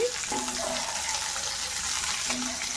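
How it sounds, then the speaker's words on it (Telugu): Red chilies frying in a little oil in a pan, a steady close broadband sizzle with faint stirring clicks and no voices. "కొంచెం ఆయిల్ వేసుకొని పండు మిరపకాయ వేగేటప్పుడు మంచి స్మెల్ అన్నది వస్తుంది"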